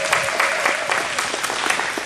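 Steady applause from an audience at a breakfast meeting, with dense, continuous clapping filling the room throughout, close and fairly loud.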